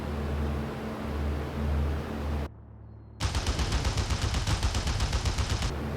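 A P-38 aircraft in the IL-2 flight game takes hits from ground fire during a strafing run, a rapid burst of repeated gunfire impacts over steady engine noise, loud and close, after a brief silent gap.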